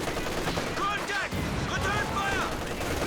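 A rifle shot cracks amid continuous battlefield gunfire in a World War II real-time strategy match, with scattered bursts around it, under a caster's fast commentary.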